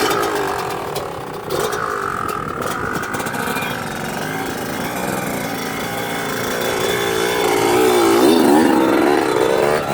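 Loud, steady two-stroke engine drone from a Yamaha YZ125 dirt bike with a flywheel weight, ridden on a track, close to the mic, holding a buzzing pitch with a swell near the end.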